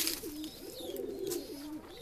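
Domestic pigeons cooing close by in a breeding loft, a low rolling coo repeating a few times with a faint chirp above it.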